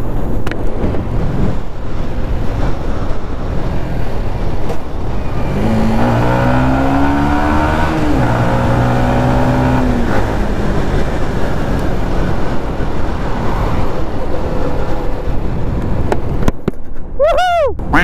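A motorcycle rides through traffic on a sunny road, heard as loud continuous wind-buffeted engine rumble with a rising and falling rev partway through and a brief whining sweep near the end.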